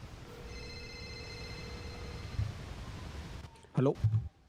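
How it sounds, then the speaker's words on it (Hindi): A phone rings inside a GTA V NoPixel roleplay game, with steady electronic ring tones through the first half under a low background bed, followed by a brief burst of talk near the end. "अरे मेरा फ़ोन है।"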